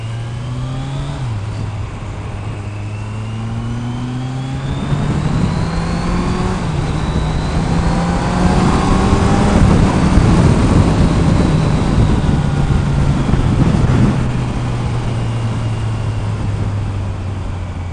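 Motorcycle engine running steadily and climbing in revs as the rider struggles to find neutral and work the gears, a loud close drone that swells midway and eases off, with no talk.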